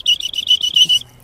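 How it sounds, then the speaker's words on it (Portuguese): A referee-style whistle blown on a street, a loud shrill trill pulsing in about six rapid bursts over one second, close by and alone before it cuts off. "O apito tá aqui já, hein?"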